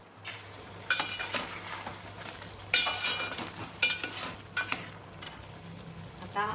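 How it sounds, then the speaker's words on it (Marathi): A spicy crab curry simmers in a pot while a spoon stirs it, several scraping clinks against the metal over a soft bubbling background. "छान अशी उकळी आलेली आहे"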